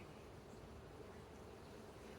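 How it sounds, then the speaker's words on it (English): Honey bees buzz at an open hive during a beekeeping inspection, with frames of a top honey super partly covered in workers. The close, dense hum holds steady and continuous throughout, with no talk. "I look down and I see how many frames are covered with bees"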